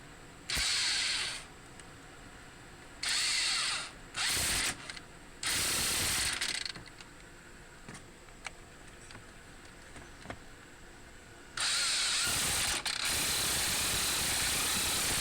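A hand ratchet tightens the brake caliper bolts on a car, with several loud bursts of rapid clicking separated by quiet gaps and faint tool handling in between.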